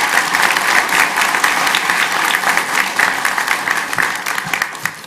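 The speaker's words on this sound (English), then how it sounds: "Can we give them one more round of applause?" Audience applause at a community college nursing division event, a sustained crowd of hands clapping loudly that thins slightly toward the end.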